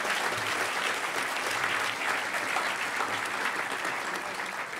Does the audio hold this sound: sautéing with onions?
no